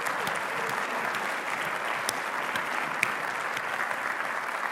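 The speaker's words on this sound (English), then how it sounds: "give a very real and heartfelt round of applause to all of the nominees and winners this afternoon" An audience at a health care awards ceremony applauds nominees and winners, giving steady, even clapping from a large room throughout.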